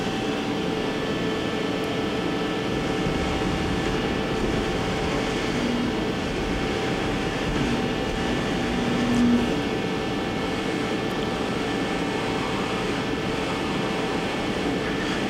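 A 2007 Johnford ST-40G-CF CNC lathe with a 50 horsepower spindle runs steadily, giving a continuous mechanical hum with faint whine tones at an even level throughout, with no speech.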